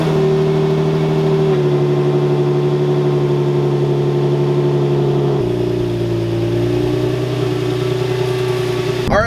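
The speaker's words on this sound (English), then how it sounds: "let's go ahead, turn on the car, see how it sounds" A Nissan G35 coupe with a performance Y-pipe exhaust idles steadily, a loud, continuous low engine hum. The pitch steps up and down slightly a few times across nine seconds, with no talking.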